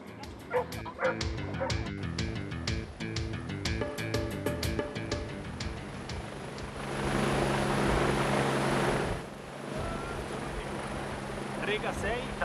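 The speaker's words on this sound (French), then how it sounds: "Les maîtres et leurs chiens sont prêts à intervenir 24 heures sur 24 en cas de disparition" Search and rescue dogs bark in quick, sharp bursts with a few yips and whimpers, loud and close, followed by a rising steady roar of an aircraft or helicopter engine, with a voice talking over it.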